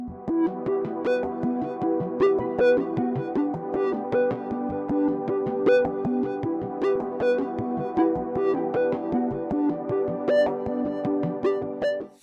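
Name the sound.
driven runner arpeggio synth from Analog Lab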